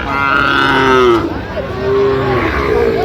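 Sahiwal cattle moo loudly and close by at a livestock market in Narayanganj, Bangladesh, two long lowing calls in quick succession, with a faint murmur of crowd noise behind.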